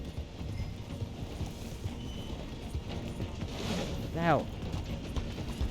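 A horse galloping in a video game set alongside a train, with steady rhythmic hoofbeats under game noise, a brief whinny-like rising call, and a voice speaking briefly.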